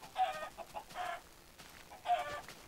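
Minecraft chicken clucking in the video game, three short clucking bursts spaced about a second apart, moderately faint and heard alone with no talk.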